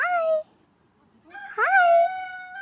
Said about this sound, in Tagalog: Yung manok kinakausap ni Papa Dib.